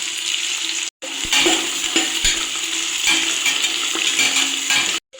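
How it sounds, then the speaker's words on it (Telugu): Onions, oil and masala sizzle in a kadai, a steady bright frying hiss with small crackles and stirring scrapes, close and continuous, broken by two brief silent gaps. "ఆనియన్స్, పెద్ద 3 ఆనియన్స్ ఇట్లా కట్ చేసుకొని వేసేసి ఈ ఆయిల్ వేసేసి ఫ్రై చేస్తాం"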